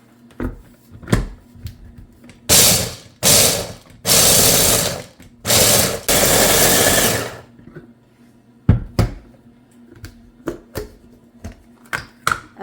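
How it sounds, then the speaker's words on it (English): A small food processor crushes whole pistachios in several loud, roaring bursts of a few seconds each, separated by short pauses, with lighter clicks and handling knocks before and after. "We've already crushed those up in the food processor."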